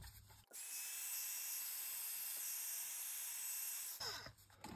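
An electric heat tool used to heat set embossing powder gives a steady, fan-driven whirring hiss that starts abruptly, runs alone for about three and a half seconds, and then cuts off.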